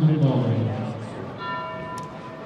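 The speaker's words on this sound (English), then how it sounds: "the bell has been rung" A bell rung at a bowling tournament, the 2013 Open Championships team event, rings out in a few steady sustained tones that sit beneath crowd murmur and talk in a large hall.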